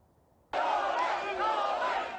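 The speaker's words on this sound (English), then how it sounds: "Police struggling to hold back a crowd surrounding what they believe to be the car of Novak Djokovic leaving his lawyer's office" A crowd mobs Novak Djokovic's car in Melbourne as police hold people back; a sudden, loud clamor of many shouting voices bursts in after a quiet half second and stays dense and sustained.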